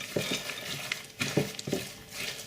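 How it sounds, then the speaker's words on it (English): A spoon stirs thick chocolate hazelnut fudge mixture in a bowl with nuts or glacé cherries, giving soft scraping and a few sharper knocks in an uneven rhythm, close and alone. "stir this in, mix it up well"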